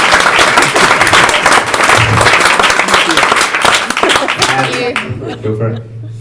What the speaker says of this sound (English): Can we all give her a round of applause?